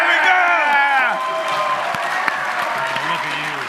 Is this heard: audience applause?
yes